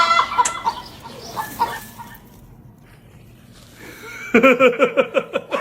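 A hen laying an egg clucks in short bursts, goes quiet, then lets out a quick, rhythmic run of loud clucks close by.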